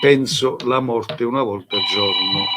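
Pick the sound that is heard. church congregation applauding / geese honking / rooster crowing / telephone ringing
telephone ringing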